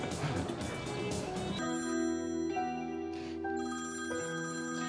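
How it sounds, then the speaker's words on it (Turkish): A telephone rings with repeated electronic ringtone bursts in an evening home scene, loud and close, with a noisy patch at the start. "Yani senin akşamları böyle telefonun falan ikide bir çalmazdı."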